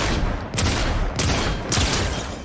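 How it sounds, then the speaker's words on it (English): Three heavy, booming blasts from the Heisted Accelerant shotgun in Fortnite, fired about every half second. Each shot is loud and close and rings into the next, with no voice. "All right, Heisted Accelerant shotgun from 10 meters out"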